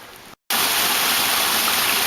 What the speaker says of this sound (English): You can certainly hear the volume of water that's coming off the pond